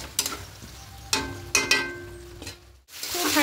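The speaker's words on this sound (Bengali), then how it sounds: "দিয়ে এবার খুব ভালো করে সব কিছু মশলার সঙ্গে আলুটাকে কষিয়ে নেব" Potatoes sautéed with spice masala in a pan, stirred with several scraping clatters and a soft sizzle, close by, with a short silent gap near the end.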